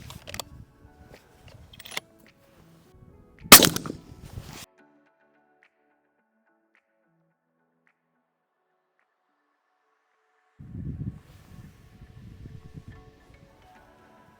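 Sharp, loud rifle reports from a 300 PRC rifle topped with a Maven RS5 4-24x50 scope crack out in a quick string over the first five seconds, followed by quiet and then soft handling and rustling noise.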